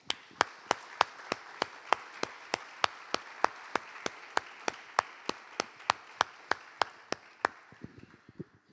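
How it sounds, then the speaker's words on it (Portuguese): Applause from an audience at a church service, though it sounds like a single pair of hands clapping in a steady, evenly spaced rhythm, about twenty-five sharp claps close by before it stops. "Vamos aplaudir a palavra de Deus?"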